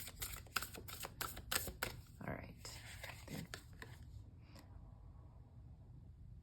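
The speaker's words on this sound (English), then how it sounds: "I find this deck beautiful, but so difficult to shuffle." A tarot card deck is shuffled up close, giving a quick run of sharp card flicks and riffles that taper off, with a brief spoken word near the end.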